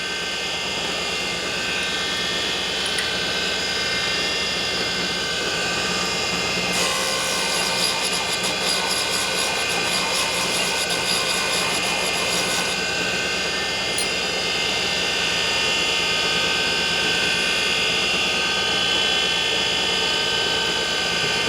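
Compressed air blasts through a Harley-Davidson Twin Cam cylinder head from a 2006-or-later Dyna during porting and rebuild work, a loud steady hiss of about six seconds rising out of constant workshop background noise.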